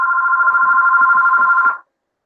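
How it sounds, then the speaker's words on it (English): A phone ringing with an incoming call, a loud electronic trill with a fast warble that cuts off abruptly near the end, leaving silence. "I get random calls. Yeah. Anyway, so that will keep ringing probably."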